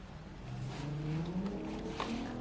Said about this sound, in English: That's most definitely a car outside.